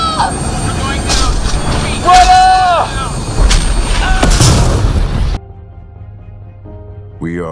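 A shuttle crash in a science-fiction audio drama: heavy booms and explosive blasts crowd the first five seconds, with shouting voices and whining tones over the chaos, then a sudden cut to near silence with a faint tone.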